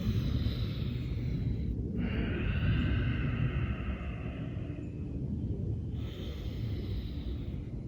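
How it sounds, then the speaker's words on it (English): Slow, deep breaths during a yoga stretching routine: long steady inhales and exhales, close and soft, with brief pauses between them and no talk. "Deep inhales and exhales to release, to strengthen, to energize."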